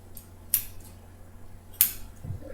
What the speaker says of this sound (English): So, I'll get my scissors here. And I'm going to cut